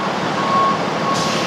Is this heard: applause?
no